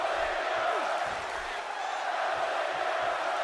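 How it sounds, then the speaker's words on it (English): A wrestling arena crowd in the video game WWE 2K17 roars in a steady wash of cheering, loud and continuous throughout. "Crowd behind Ziggler"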